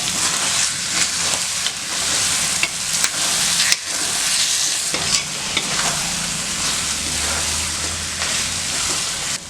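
Mutton varuval, Madurai-style sukka, being stirred in a pan over full flame, a loud steady frying sizzle with repeated scraping stir strokes throughout and a low hum near the end.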